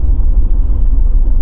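A car engine just after a downshift from fifth to third gear, turning near 2000 rpm, gives a brief, steady, loud low rumble heard up close.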